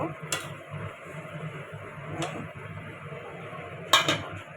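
Metal utensil scrapes and clinks against a pan while fried hilsa fish and roe are stirred, three sharp knocks spread over a soft sizzling background.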